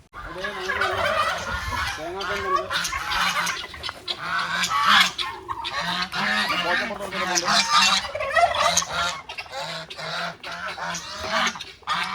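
A flock of turkeys gobbles continuously close by while feeding, mixed with honking and clucking from chickens and other poultry in a busy, overlapping chorus.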